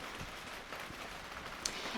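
Steady rain falling outdoors, a soft, even hiss with faint scattered drips, fairly quiet and continuous with no talking.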